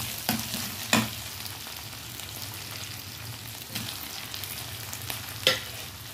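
Tomatoes are stirred into potatoes frying in a pan for aloo baingan sabzi, with a low continuous sizzle and a few distinct spoon clacks spread across the stirring.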